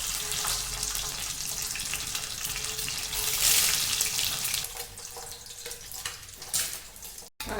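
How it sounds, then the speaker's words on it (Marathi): Peeled boiled eggs, pricked with a knife, shallow-fry in a little oil in a kadhai, giving a steady broad sizzling hiss that swells briefly midway and runs without any talk. "कढईत तेल ओतले थोडे आणि हे अंडे शॅलो फ्राय करते."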